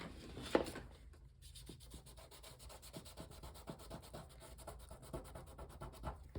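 A rubber eraser rubs dirt off a handmade Christmas card in quick, steady back-and-forth strokes, close and fairly soft, running without talk.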